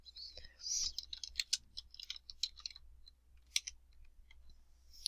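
Light, scattered keyboard clicks from typing into a PowerPoint search box, quiet and close, arriving in irregular bursts with short pauses between them.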